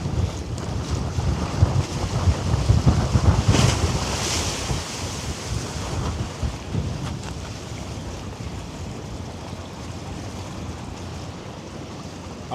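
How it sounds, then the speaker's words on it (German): Water rushes and splashes steadily around a ferry as wind buffets the microphone, a broad, loud, continuous roar that surges in the first few seconds and then settles a little. "man hört natürlich die Wassergeräusche"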